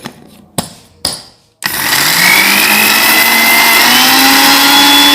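A mixer grinder starts with a few short pulses, then runs continuously at full speed with a loud, steady whine, grinding mint leaves into powder at close range.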